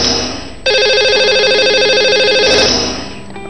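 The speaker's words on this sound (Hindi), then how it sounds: "और सना जो है वो इस समय हमारे साथ फोन लाइन पर जुड़ चुकी हैं।" A telephone rings on a live Indian television call-in show, a loud electronic ringtone starting abruptly and sounding a steady patterned trill for about two seconds before fading.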